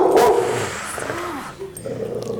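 A Dalmatian growls and barks aggressively at close range, its harsh rough vocal bursts loud and rising and falling over about two seconds in an indoor courtroom.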